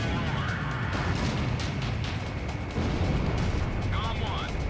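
Missile launch in the Ace Combat 0 flight combat video game: a loud, continuous roaring rush of exhaust and engine noise, with a brief dip midway, then a rising whine near the end.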